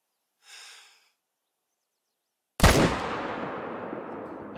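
A rifle shot in the Call of the Wild hunting video game cracks sharply and loudly after a short breathy sound and a pause of silence. It then trails into a long, rolling echo that slowly dies away.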